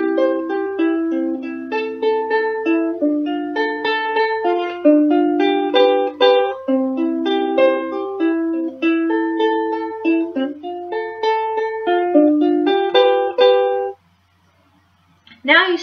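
Ukulele strumming an Adventure Time song chord progression, bright rhythmic chords played alone for about fourteen seconds before a brief pause and a final strum.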